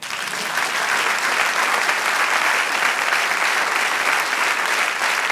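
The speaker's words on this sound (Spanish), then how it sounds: "Denle un aplauso al Señor" A church congregation applauding during a sermon, a loud, dense and unbroken wash of many people clapping that fills the whole span at steady strength.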